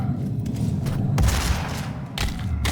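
Gunfire in the shooter game DOOM: loud, close shots land as two heavy broadband bursts, the first around the middle and a second shorter blast near the end, over a dense rumbling game soundscape.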